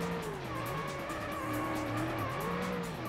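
Race car tires squeal and skid through an oversteer slide in the Ford Racing video game, a wavering continuous screech over engine drone lasting a few seconds at moderate volume.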